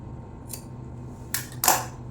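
Scissors snip through the back piece of a patchwork blouse fabric: three short, crisp cuts, the last two close together, fairly near against a quiet room.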